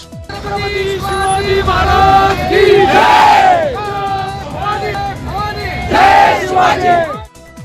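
A large crowd of Mahayuti alliance supporters in Solapur celebrates an election victory after winning all three city seats. Loud, continuous cheering and shouting voices swell at several points and then cut off abruptly at the end.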